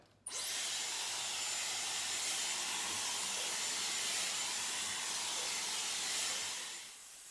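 A Dyson Airwrap hair styler fitted with a hard smoothing brush runs on full heat and full airflow, giving a steady, loud, airy whoosh that holds for about seven seconds before easing off slightly.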